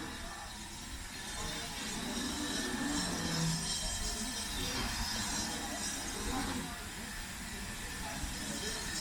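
Steam hissing from a train on the Worth Valley Railway, a broad continuous hiss with low rumbling beneath, fairly distant, with faint voices in the background.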